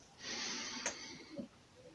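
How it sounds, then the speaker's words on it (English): A person breathes in during a slow exercise routine, a soft, close, airy inhale lasting about a second with a faint snort-like catch near the end, quiet and with no talk. "Breathing in."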